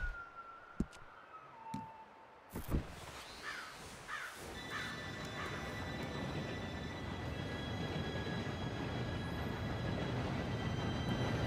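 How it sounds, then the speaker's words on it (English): A train approaches in the video game Red Dead Redemption 2, a low rumble building steadily into a loud continuous roar, with a few crow caws and clicks early on. "Train should be here any minute now."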